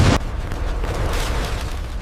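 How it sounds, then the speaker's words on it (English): A simulated Fateh 110 ballistic missile launch opens with a sharp, loud blast. A sustained roaring rush follows and fades over the next two seconds. "The Fateh 110 has launched."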